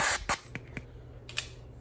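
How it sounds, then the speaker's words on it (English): Short bursts of non-stick cooking spray hitting a skillet, a few quick hissing sprays with brief gaps between them, close and fairly quiet. "let's spray our skillet with some non-stick cooking spray. Just give it a light spray."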